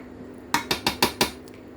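A metal spoon knocks five times against a pot while chicken curry with coconut milk is stirred, sharp clinks in a quick, uneven series that then stops; no one speaks.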